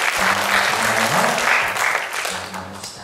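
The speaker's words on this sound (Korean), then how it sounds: "큰 박수로 환영해 주시기 바랍니다" Congregation applause in a church welcoming a high school student, a full, continuous wash of clapping with a low tonal hum or voice-like tones underneath, gradually easing toward the end.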